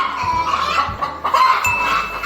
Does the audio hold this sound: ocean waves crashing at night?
no